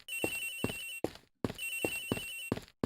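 Telephone ringing in Ace Attorney Investigations, heard from a flight attendant's room: a bright electronic ring repeating in two long bursts separated by a short gap, clear and alone without voices.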